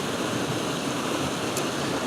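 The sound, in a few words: waterfall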